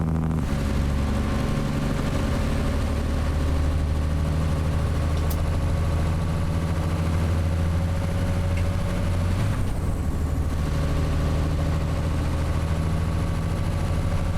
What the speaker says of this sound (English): This engine just keeps making power when you wind it up.